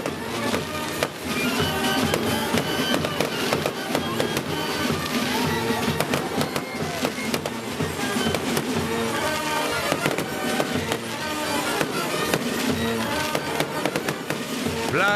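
Carnival finale fireworks crackle and pop in a dense, continuous barrage of rapid bangs, loud and sustained throughout.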